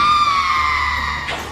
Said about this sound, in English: and scream.